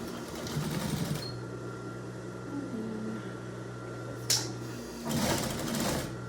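A sewing machine runs steadily hemming an apron, a close continuous motor whir with a low hum, easing off midway, then a sharp click and a final louder burst of stitching.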